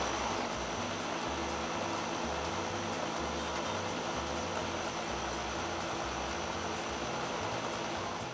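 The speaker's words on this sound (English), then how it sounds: "I'm gonna blend it up a little bit." A blender whirs steadily through a spinach smoothie, a loud continuous motor drone with a faint pulsing churn that runs for several seconds without voices.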